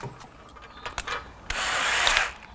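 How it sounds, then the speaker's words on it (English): A few sharp clicks and rattles, then a power drill whirs steadily for about a second as it spins a nut down a bolt. "Let's put it on the drill."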